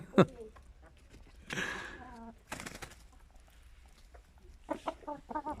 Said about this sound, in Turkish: Bu da minik horozumuz.